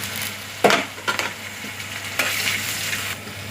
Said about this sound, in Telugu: ఆయిల్ అయితే హీట్ ఎక్కిపోయిందండి ఇప్పుడు ఆనియన్స్ వేసుకుందాం కరివేపాకు పచ్చిమిర్చి కూడా వేసేసుకుందాం